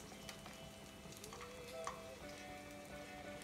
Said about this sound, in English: we're not frying it until it's golden brown